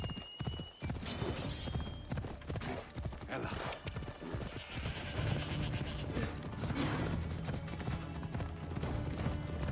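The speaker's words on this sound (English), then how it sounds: "I've got a pretty fast horse." A horse gallops in Assassin's Creed Odyssey, its hooves pounding in a rapid, steady clip-clop rhythm, loud and close, with faint game ambience behind.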